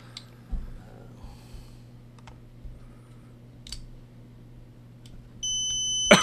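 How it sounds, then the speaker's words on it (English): A few quiet clicks and taps, then a steady electronic beep tone sounds near the end, close and clear. "It's beeping."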